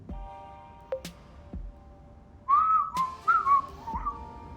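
A person whistles a short tune close up: a few clear, wavering pitched notes in a brief phrase after some scattered clicks and knocks, with no talking.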